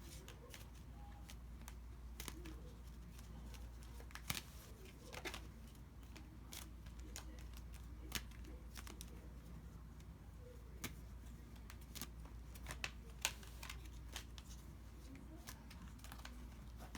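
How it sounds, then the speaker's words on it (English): Tarot cards are shuffled in a string of light, quick papery clicks and taps, irregular and close, over a faint low hum with no speech. "I did a bunch more shuffling"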